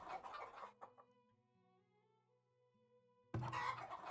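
Chickens clucking in the village-building game Farthest Frontier, a few short soft clucks and a brief crow-like call at moderate distance, surrounded by quiet musical tones and a burst of ambient game noise at the end.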